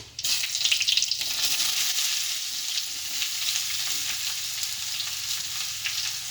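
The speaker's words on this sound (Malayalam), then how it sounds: "സവാള എന്നിട്ട് വഴറ്റിയെടുക്കാം" Sliced onions sauté in hot coconut oil with dried red chillies in a pan for an egg roast, giving a loud, steady, close sizzle and crackle throughout, with no talking.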